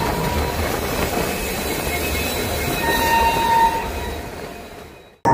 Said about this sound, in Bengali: নির্ধারিত সময়ের থেকে 12 মিনিট লেটে আমরা এসে পৌঁছালাম আমাদের ট্রেনের বিহার রাজ্যের প্রথম official halt Gaya junction railway স্টেশনে